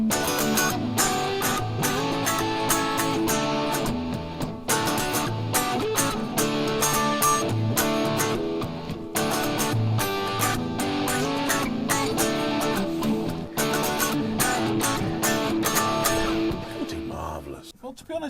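Distorted electric guitar through a Helix 21D preset, played as a dense, loud, continuous riff with rapid picked notes and heavy saturation for nearly the whole stretch before cutting off at the end.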